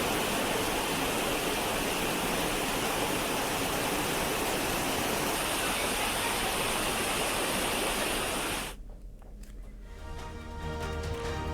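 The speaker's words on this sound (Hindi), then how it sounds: "जहां काफी मात्रा में पानी झरने से गिर रहा है" The Sirvel Mahadev waterfall in Khargone, swollen by torrential rain, roars loudly and continuously with a dense rushing wash of falling water, then cuts abruptly to quieter, softer ambience near the end.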